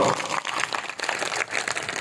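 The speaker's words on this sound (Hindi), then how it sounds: "जरा ताली बजा के बताओ" A crowd of party workers claps at a BJP workers' rally in Rajasthan, a dense, steady patter of many hands that carries on throughout at moderate loudness.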